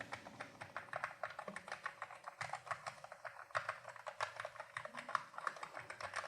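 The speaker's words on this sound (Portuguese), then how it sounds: "Ele é muito bom de digitar." Steady typing on an Akko MonsGeek FUN60 magnetic keyboard gives a fast, soft run of light, muted clicks, close up and quiet, with no voices.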